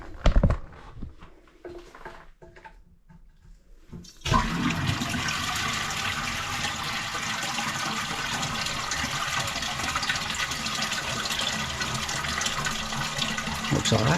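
A toilet flushes after a plumbing repair: a sudden loud rush of water that settles into a steady refilling hiss and trickle, continuing for about ten seconds after a few quieter knocks and handling sounds.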